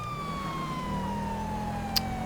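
Police car siren in GTA V, running on a road with the LSPDFR police mod: a steady, slowly falling electronic wail that holds throughout, with a sharp click just before the end.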